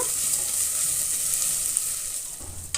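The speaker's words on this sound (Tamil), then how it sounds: "இப்போ இந்த அளவுக்கு வதங்கி வந்ததும் இதில் இன்னும் நல்லா ப்ரௌனிஷாக வெங்காயம் வதங்கி வர்றதுக்காக உப்பு சேர்த்துக்கலாம்." Sliced onions sauté with salt in a stainless steel pan, producing a continuous close, bright sizzle with occasional soft stirring taps and a sharper clink just before the end.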